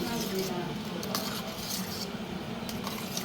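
A spoon scraping and clinking in a cooking pot as jaggery and lentils are stirred, a steady close scraping under a bubbling simmer.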